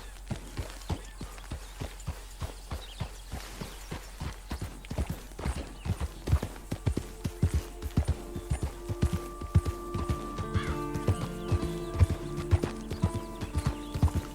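Horse hooves clip-clopping in a steady, brisk rhythm in Red Dead Redemption 2, close and clear, with gentle game music swelling in over the later half.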